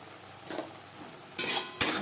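A spoon scrapes and stirs silver carp fish curry with salt and turmeric in a pan. After a soft shuffle, two sharp, close scraping strokes come in quick succession, with no talk.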